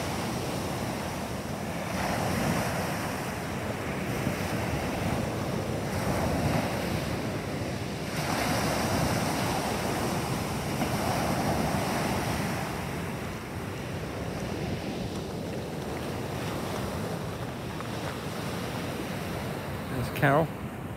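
Sea waves rolling and breaking on a shingle beach near Dunwich, a continuous washing surge with several swelling crests, heard close by under gusting wind buffeting the microphone.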